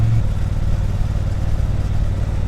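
A Triumph Bonneville T120 motorcycle engine holds a deep, steady low rumble echoing inside a tunnel, loud and continuous with no voices.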